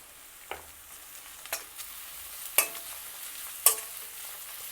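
A spatula stirs ginger garlic paste with grated carrot in a pan, giving a faint sizzle under a few soft scrapes spaced about a second apart, some sharper than others.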